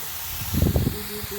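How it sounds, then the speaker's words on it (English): Steam hisses softly from a pressure canner over a campfire, a short swelling burst of breathy venting with a faint whistle-like tone trailing off. "so you can probably hear the steam and not see it"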